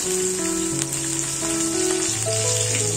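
Bean sprouts stir-fried in a pan for tumis toge give a steady, close sizzle with a few soft stirring taps, all under faint background tones.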